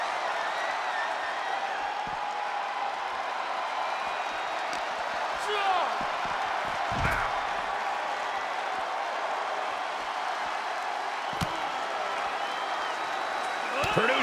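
The crowd in a WWE 2K23 extreme rules wrestling match between Cody Rhodes and Randy Orton keeps up a steady roar of arena noise, with occasional slams and thuds, while a commentator talks over it.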